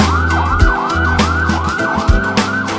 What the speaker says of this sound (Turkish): Siren siren siren sirenleri çalıyor çalıyor